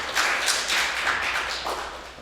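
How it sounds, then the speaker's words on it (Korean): Audience at a Dongguk University WISE Campus innovation forum claps for a student presenter, a light, steady patter of hands that continues for about two seconds without speech. "큰 박수 다시 한번 부탁드리겠습니다."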